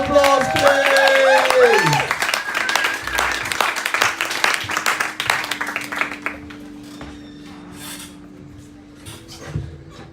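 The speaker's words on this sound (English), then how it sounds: "Can we have a round of applause for Poetica?" An audience at a spoken-word poetry event claps for the poet Poetica in a busy burst that fades to scattered claps, with a voice talking over the start and other sounds continuing beneath.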